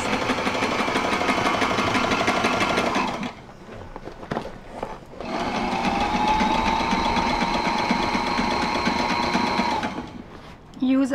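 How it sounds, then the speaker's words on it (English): A sewing machine on board a boat runs zigzag stitches in steady, buzzing bursts, stopping briefly midway before stitching again, close by and loud, with faint voices underneath. "we have a very nice machine, sewing machine on board"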